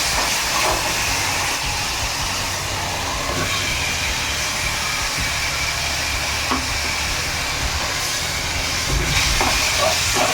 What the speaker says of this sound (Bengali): আর এই গ্যাসটা এত জোরে জ্বলে আমার এখানে